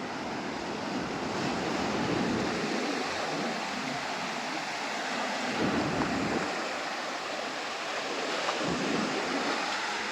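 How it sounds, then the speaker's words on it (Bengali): Bay of Bengal sea waves roll and crash against a concrete wall on a Sundarbans island in a steady, loud roar, with surges rising and falling and wind rushing over the microphone. "এই সাইডে ঢেউ দেখুন সমুদ্রের"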